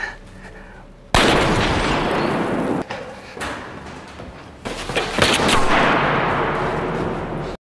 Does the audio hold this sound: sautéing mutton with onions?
no